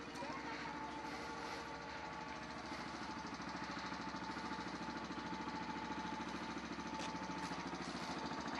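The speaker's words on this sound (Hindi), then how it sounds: "बाइक को स्टार्ट करते हैं, थोड़ा हीट अप हो जाए उसके बाद चलते हैं" A TVS Apache RS 200 motorcycle engine idles while warming up after being started, giving a close, continuous, evenly pulsing drone with no revving.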